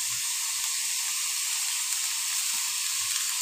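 Vegetables sauté in hot oil in a pan for momo filling, giving a steady, soft sizzle without pause and no voices.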